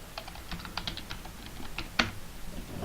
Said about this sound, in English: I'll need to type in the password